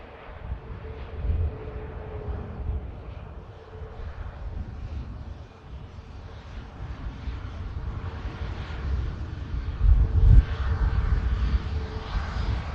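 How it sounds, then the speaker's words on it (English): A TUI airliner lined up on the runway at Manchester Airport for departure to Corfu, its engines a steady low roar that builds louder toward the end, heard from a distance with wind buffeting and no talk. "And the TUI 73 for Corfu is lined up already for departure."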